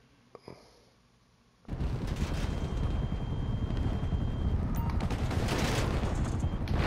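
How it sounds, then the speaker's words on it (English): Gunfire in GTA V Online: after a few faint clicks, a sustained loud barrage of rapid shots erupts and continues without pause to the end, dense and close. "Quit shooting."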